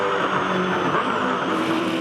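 V8 Supercars race into turn 3 at Ipswich in the 2011 series on a wet track, their engines a moderately distant, blended roar with a rising and falling whine.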